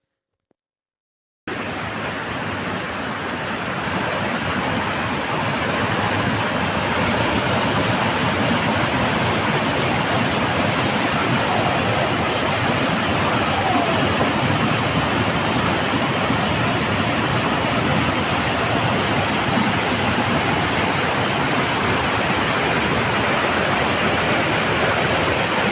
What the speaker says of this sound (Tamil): அப்படியே அந்த பாறைகள்லேருந்து எப்படி தண்ணி ஊற்றுது